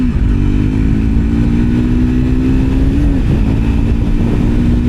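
A Scrambler X motorcycle engine pulls hard on a state highway as the throttle is twisted, a steady loud drone that climbs in pitch, dips briefly near the end, then resumes, with wind rumble throughout.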